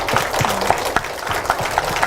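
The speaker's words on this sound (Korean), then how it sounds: "여러분 힘차게 박수 보내주기 바랍니다" In a hall at a Korean forum on a disability rights law, a crowd gives short, moderately loud scattered clapping with uneven individual claps and a little background murmur.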